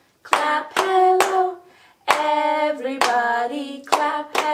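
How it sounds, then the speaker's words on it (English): During a storytime song, children clap their hands in short bursts of sharp claps. Melodic singing carries over the claps, and there is a brief pause midway before the clapping and singing resume. "Everybody clap hello. Clap hello, clap hello,"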